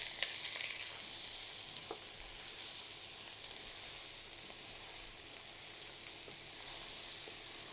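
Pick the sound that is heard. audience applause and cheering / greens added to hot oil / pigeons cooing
greens added to hot oil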